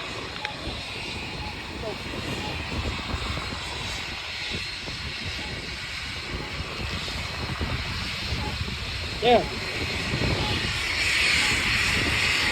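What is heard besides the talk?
airplane engine at Hawthorne Municipal Airport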